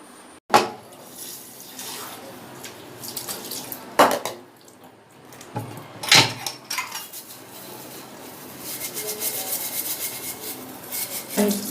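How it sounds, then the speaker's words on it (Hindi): Dishes being washed under a running kitchen tap, with steady water flow and sharp clinks and clatters of pots, plates and cutlery, close and fairly quiet. "तो अब मैं बर्तन धो लेती हूँ।"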